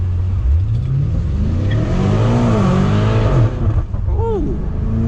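A BMW F90 M5 with carbon ceramic brakes launched at full throttle, the engine roaring up through rising revs with quick gear shifts, heard loud from inside the cabin.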